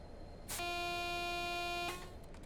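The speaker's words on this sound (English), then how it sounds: "I didn't realise that the buzzer controls actually shut the AWS off" An AWS warning buzzer sounds in the cab of a Class 47 locomotive in Train Sim Classic, one steady harsh tone lasting about a second and a half before cutting off cleanly.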